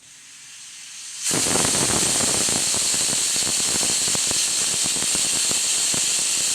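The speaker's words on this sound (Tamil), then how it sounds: "ஒரு விசில் வந்துடுச்சு, அடுப்பு ஆஃப் பண்ணிடலாம்." A pressure cooker cooking banana flower biryani lets out a loud, continuous steam hiss that bursts in and holds steady, with a rattling, fluttering edge as the vent releases pressure, close and sustained.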